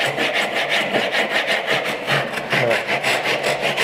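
Hand rip saw cutting down into a wooden tenon for a mitered bridle joint, with steady rhythmic back-and-forth strokes, each pass rasping clearly and close, no talk.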